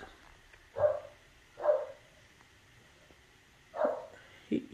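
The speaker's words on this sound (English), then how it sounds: "Oh, this dog don't do nothing but bark." A household dog barks four times in separated single woofs spaced about a second apart, moderately close and alone with no talk over it.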